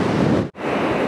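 Sea waves wash steadily onto a rocky shore in Denmark, a loud, broad surf roar with wind buffeting the microphone, briefly cutting out for an instant midway before resuming at full strength.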